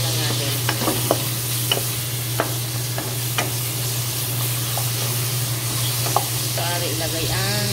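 Boneless milkfish (bangus) frying in a pan, a steady close sizzle with scattered pops and crackles and a constant low hum beneath.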